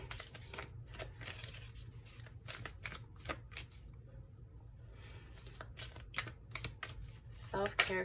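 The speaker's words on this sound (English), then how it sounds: "Some of these cards are hard to shuffle a certain way" Tarot cards being shuffled by hand, a quiet run of papery riffles and flicks with irregular rhythm, close and soft throughout, with a brief louder clatter near the end.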